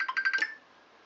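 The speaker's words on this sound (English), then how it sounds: "There's the phone. I'm not going to catch it." A phone ringtone trills in a quick burst of about five bright, repeated pulses, then cuts off and leaves quiet room tone, heard in a workshop during Honda SL125 cylinder head and valve work.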